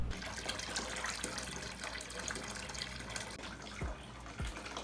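Tap water runs steadily while dye is rinsed out of hair, a continuous broadband splashing wash with a few louder gushes near the end, close and alone with no talk.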